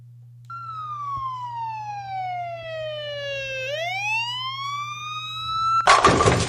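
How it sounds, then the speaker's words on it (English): Ambulance siren in a video intro: a single loud, clear electronic wail that sweeps down slowly and then rises again, ending in a burst of harsh noise. "That sounds like an ambulance"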